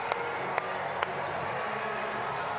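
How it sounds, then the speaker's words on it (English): A crowd at a minor-league hockey game in an indoor arena gives a broad, steady roar of cheering, with a few sharp thumps or bangs and a commentator talking over the noise. "Crowd coming alive here inside Vision Veterans Memorial Arena"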